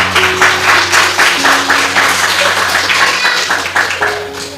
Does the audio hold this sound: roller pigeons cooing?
no